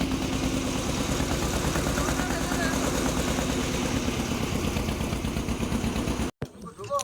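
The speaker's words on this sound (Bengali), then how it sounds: "এই তো আমরা খেয়াতে করে যাচ্ছি" Steady, close engine drone of a ferry boat crossing a river near the Sundarbans, a continuous low rumble with rapid pulsing that runs unbroken before cutting off abruptly near the end.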